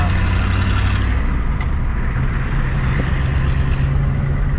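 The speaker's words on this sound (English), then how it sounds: "Maybe you can hear the truck a little better." Old non-turbo diesel truck engine droning low and steady from inside the cab while driving, a loud constant rumble with road noise and no talk.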